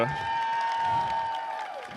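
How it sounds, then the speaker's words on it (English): An audience at an FTC robotics competition claps and cheers steadily for two seconds, fairly loud, with a sustained tone running beneath the applause. "Let's have a round of applause for our judges."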